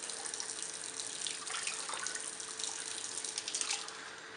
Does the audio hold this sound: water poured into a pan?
yes